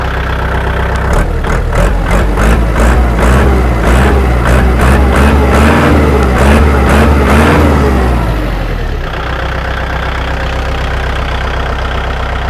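A Kubota L4708 farm tractor engine runs loud and close, revving up and holding high with a rough, throbbing diesel drone. It then settles back toward idle.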